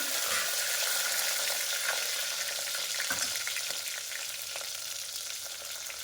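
Drumstick pods and spices, including bay leaves, fry in a pan with a steady, busy sizzle and crackle, close up, fading slightly toward the end.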